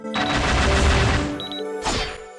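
Shots fire in the Black Rock Shooter video game: a dense, loud burst of rapid gunfire, then a short pause and one more sharp blast, close and punchy over steady game tones.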